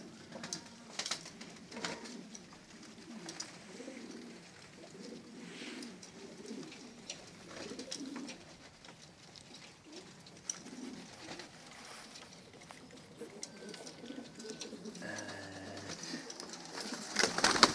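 Pigeons coo repeatedly in snowy weather in Ankara, soft low calls rising and falling close by, joined by light patter and rustling, with no speech over them.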